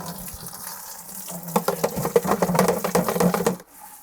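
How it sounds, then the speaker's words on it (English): Tap water runs into a container holding a couple of capfuls of organic liquid tomato fertiliser, rising to a steady splashing pour in a garden vegetable bed, then stopping abruptly near the end. "a couple of capfuls in, and then just fill it up with our water here"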